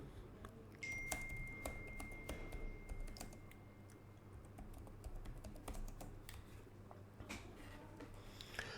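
Someone types a search on a computer keyboard: soft, quick key taps in uneven bursts over a faint background hum, quiet and close, with no voices.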